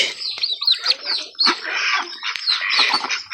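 Noisy flock of ducks quacking and squawking continuously, overlapping calls from several birds close by, with no speech.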